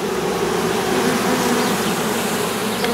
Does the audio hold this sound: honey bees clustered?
yes